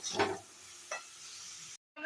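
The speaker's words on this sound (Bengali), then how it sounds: "আমি এখানে দিয়ে দিয়েছি পেঁয়াজগুলো ভাজা ভাজা হওয়ার জন্য।" Onions frying in a pan for a curd chicken dish, giving a soft close sizzle broken by a couple of brief spatula stirs, then a sudden cut to silence near the end.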